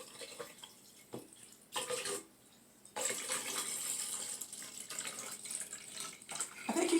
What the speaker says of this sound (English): first I'm going to put some water in the glass and then put a little water around the edges